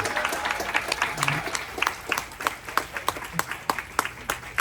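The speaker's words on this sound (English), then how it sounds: "Big round of applause." Applause from a crowd at a marketers' event aboard the Carnival Horizon cruise ship, a dense patter of clapping that thins into scattered individual claps toward the end.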